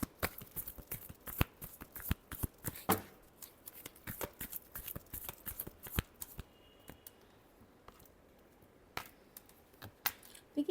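Tarot cards are shuffled by hand in a run of sharp, close riffles and slaps, irregular in rhythm, with a quieter stretch in the middle and a few final snaps.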